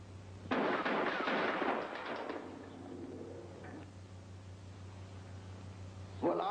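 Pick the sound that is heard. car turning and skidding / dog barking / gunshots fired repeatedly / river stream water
gunshots fired repeatedly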